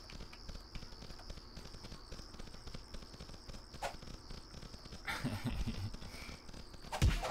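Cows running in the video game Cube World make a steady rapid clopping of hooves, close and continuous, with a few louder thumps and scuffles toward the end.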